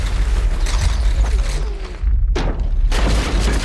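A loud film explosion: a blast and rumbling crash with debris-like clatter and creaking, a brief drop to near silence, then another burst of noise.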